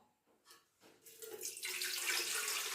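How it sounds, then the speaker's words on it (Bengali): Water pours into an idli maker, starting with a few light knocks and splashes, then swelling into a loud, steady rushing stream close by. "আগে প্রথমে এটা আমি জল দিয়ে দেবো"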